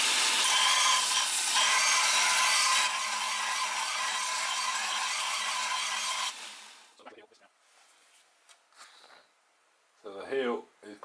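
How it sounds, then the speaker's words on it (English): Bowl gouge heel being ground by hand, a steady broadband abrasive rasp lasting about six seconds, loud and close, then cutting off to quiet with a few faint knocks and a brief voice near the end. "which I usually grind the back of the heel out by hand"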